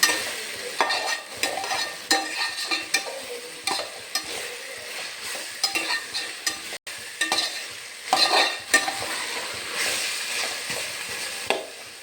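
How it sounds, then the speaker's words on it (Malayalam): Chicken curry masala being stirred in a pan, a spatula scraping in repeated irregular strokes over a continuous frying sizzle, close and fairly loud, no speech. "ഏകദേശം ഒരു 5 മിനിറ്റോളമായി ഇത് ഇങ്ങനെ ഇളക്കുന്നു."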